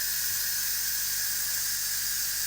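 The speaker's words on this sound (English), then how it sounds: "And so this lets all the steam out right away." Steam blasts from an Instant Pot's pressure-release vent as a loud, steady, high-pitched hiss that holds unbroken throughout.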